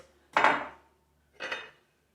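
A cooked artichoke is set into a small bowl, producing two separate soft clunks with a short scrape. The sound is close and clean against silence.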